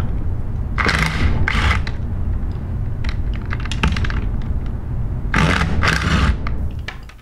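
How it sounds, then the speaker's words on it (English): A 3/8 inch impact gun removes discharge manifold bolts on a metallic Sandpiper pump in a few short, rattling hammering bursts over a low background hum, with quieter clicks between them. "we're going to use a 3/8 inch impact gun for assembly and disassembly"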